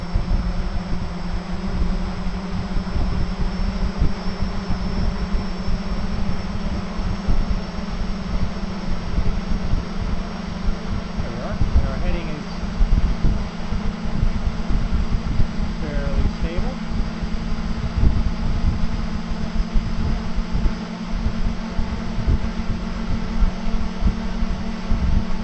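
Multicopter motors spin at half throttle, giving a steady mechanical hum and whirr that holds evenly throughout, with faint intermittent chirps over it.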